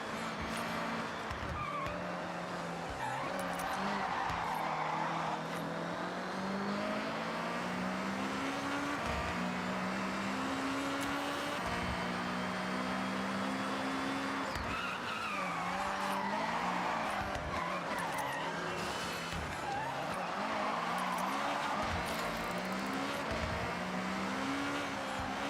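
Car braking and tires squealing in a driving video game, sustained engine drone with repeated screeching skids and shifting revs across the stretch, alone without talk.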